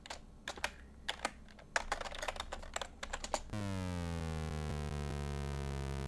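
Game Boy sound chip tone sweeping rapidly downward in pitch, a steady buzzy square-wave tone heard alone after a burst of keyboard typing.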